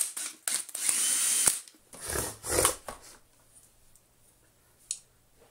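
A power drill drives screws back into the housing of a Dyson DC40 vacuum cleaner during motor replacement, giving a couple of short close whirring bursts followed by quieter handling clicks.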